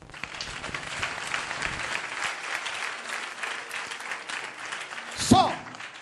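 A church congregation in Lomé, Togo claps and applauds steadily for several seconds, a dense crowd sound with voices mixed in and a brief shout near the end.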